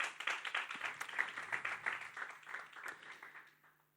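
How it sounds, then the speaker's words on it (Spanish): Church congregation clapping in praise after a sermon's call to applaud the Lord, a few seconds of brisk, fairly close handclaps that thin out and fade toward the end. "Dale un aplauso al Señor."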